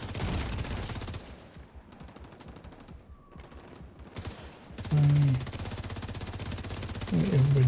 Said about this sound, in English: Everybody shooting at me.